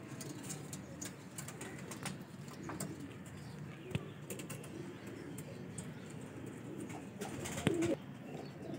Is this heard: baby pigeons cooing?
yes